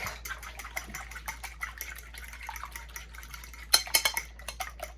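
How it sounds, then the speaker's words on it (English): Eggs whisked in a bowl with no milk added, heard as rapid, light metallic clicking and tapping that runs steadily throughout and turns denser and louder near the end. "we're just going to give it a good whisk"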